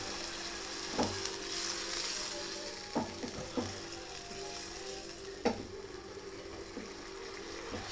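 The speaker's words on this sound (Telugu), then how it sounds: "సో ఇదైతే నార్మల్ ఎగ్ ఫ్రై అన్నమాట" Eggs frying in a pan outdoors in a forest, a steady close sizzle with a few soft clicks and scrapes of utensils against the pan.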